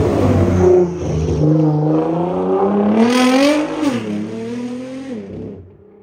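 A Nissan GT-R twin-turbo V6 with a titanium exhaust revs loud and close, its engine note climbing and falling in sustained howling sweeps for several seconds before easing off.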